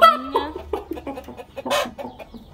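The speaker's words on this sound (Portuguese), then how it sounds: "Aqui tem as galinhas." Chickens cluck in a farmyard, giving a close string of short, uneven clucks and squawks with one louder burst partway through.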